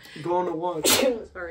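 A single sharp sneeze bursts out right after a woman's casual speech, close and fairly loud, followed by her brief apology.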